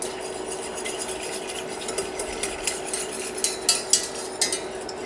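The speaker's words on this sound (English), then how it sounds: "stir continuously because you don't want to let this agar agar set on the bottom" An agar agar mixture for mango coconut jelly is stirred continuously in a pot, producing a steady soft bubbling hiss with light rhythmic scrapes and clinks of a utensil against the pot, growing more distinct toward the end.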